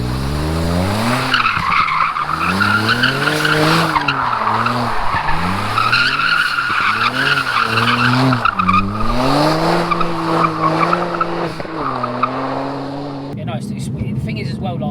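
A Stage 2+ BMW 135 coupe skids with sustained, wavering tire squeal and a loud engine note that rises and dips for over ten seconds, close by and continuous.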